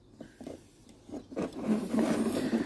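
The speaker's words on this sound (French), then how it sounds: "Donc ici une molette pour serrer l'étau." A bench vise is tightened by turning its knob, giving close, scraping and rubbing mechanical sounds with small ratchet-like clicks that start sparse and quiet, then grow denser and louder.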